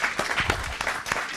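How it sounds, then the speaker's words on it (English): A studio audience at a fitness TV show gives a brief burst of applause, a dense patter of claps lasting only a moment. "Give this guy another round of applause."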